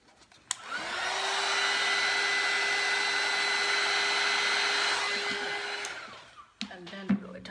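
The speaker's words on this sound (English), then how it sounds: "let's torch it first" A handheld torch heats acrylic pour paint in a fluid art flower painting. It gives a steady roaring hiss for about six seconds, starting and stopping abruptly, with small clicks and handling noises around it.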